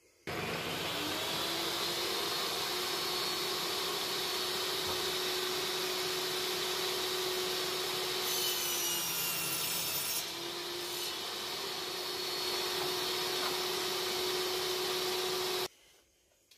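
Wood is sawn at an angle for a shelf unit, giving a long steady rasping drone that runs nearly the whole time, loud and close, with a brief sharper scrape partway before it stops abruptly.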